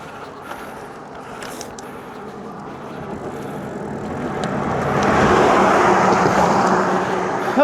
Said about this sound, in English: I can hear a car coming up.